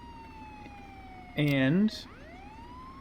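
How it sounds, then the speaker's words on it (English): A police car siren in the video game Contraband Police wails once, loud and brief, a short rising-and-falling burst cutting over a low steady engine drone, with someone talking nearby. "Turn our siren on, because I think that's the only way you can turn the beacon light on top."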